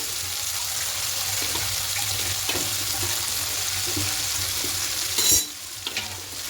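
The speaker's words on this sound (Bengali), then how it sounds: "এবার খুব ভালো করে কষিয়ে দেবো" Spices and ginger-garlic paste fry with onion and tomato in a pan for a cauliflower curry, a loud steady sizzle with stirring scrapes and a short splashy burst near the end, with no voices.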